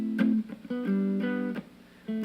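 Electric guitar in a rock lead lesson plays short sustained notes and chord stabs around a low F, several separate phrases with brief gaps, close and clear with no talking.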